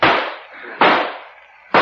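Gunshots ring out in a 1948 Boston Blackie radio drama, three sharp loud cracks about a second apart, each trailing off in a brief echo.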